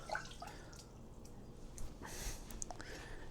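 Water swishes and trickles as rice is rinsed by hand in a saucepan, a steady soft wet churning with faint drips, close and moderately quiet with no talking.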